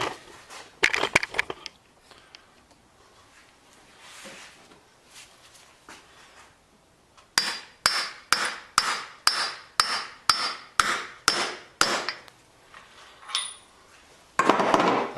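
A hammer drives a deep socket onto a washer of a Fleming Gray B2 skate sharpener in a run of about a dozen sharp metallic strikes, evenly spaced and close, after some earlier scattered clatter.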